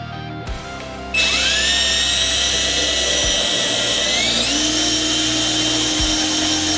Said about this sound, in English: I'll just clamp this down and drill it out.